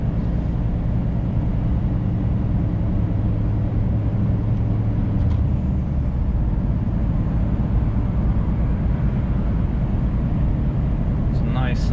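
Engine of a new-generation Scania truck pulling a trailer, heard from the cab while driving with manual shifting: a steady, loud low drone with a brief change in tone midway, continuous throughout.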